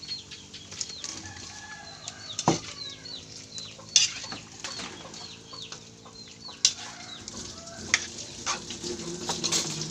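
Frying with soy sauce and vinegar, a steady sizzle with intermittent stirring clatter and utensil clinks, while birds chirp and a rooster clucks in the background.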